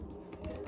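Typing on a computer keyboard, a few soft, quick key clicks over a very short moment, faint and close.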